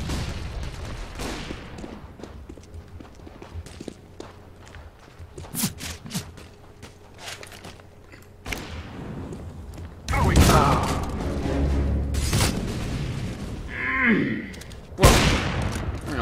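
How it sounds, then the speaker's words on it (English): Counter-Strike: Global Offensive match with scattered gunfire, footsteps and thuds, then a flashbang grenade going off with a sharp bang amid the game action, while people talk over the sounds throughout. "Throwing a flashbang."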